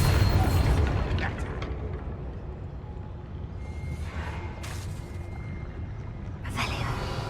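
In the Hogwarts Legacy video game, a Bombarda spell sets off an explosion heard as a deep, loud boom at the start, settling into a lingering low rumble mixed with game ambience.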